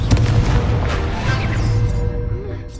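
A Confringo spell explosion in the Hogwarts Legacy video game, a loud, dense burst of booming, crashing game effects that fills the clip and rumbles on with a trailing roar.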